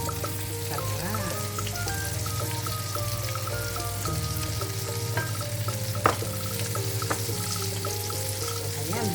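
Eggplant omelette, tortang talong with onion, fries in a pan with a steady low sizzle, while faint clinks and scrapes of a utensil sound throughout.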